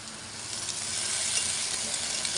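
Chicken and tomato sautéing in a pan for a Chinese-style chicken soup, giving a steady, close, bright sizzle that swells slightly as the ingredients are stirred.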